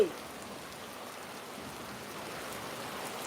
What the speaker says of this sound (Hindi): देख लियो बारिश के आनंद ला रहल छथिन